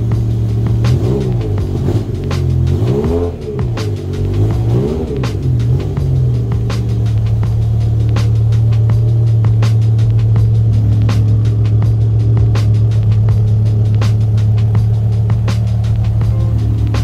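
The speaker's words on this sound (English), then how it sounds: "Now let's take the car for a test drive." A BMW M6/M5 drives on a test drive after a brake pad replacement. The engine rumbles steadily and rises and falls as it revs early on, then settles into a constant drone with road noise for the rest of the drive.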